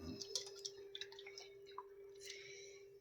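Fish pieces being rinsed in water by hand, with soft drips, splashes and small squishing sounds at close range over a steady background hum.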